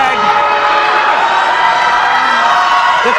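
A wrestling crowd at an 8-man tag match cheers and shouts loudly throughout, a dense, sustained roar of voices with whoops rising above it, while a commentator talks over the noise.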